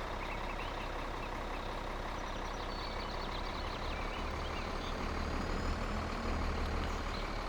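A truck in Farming Simulator 2013 reverses to hook up a trailer, its engine rumbling steadily with a faint rapid beeping pattern over a dense, noisy background, no talk.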